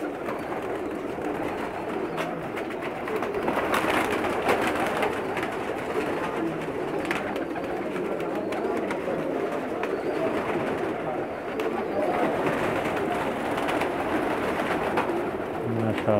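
Many Pakistani pigeons cooing together in a dense, continuous chorus, with a steady rustle of activity and some background voices.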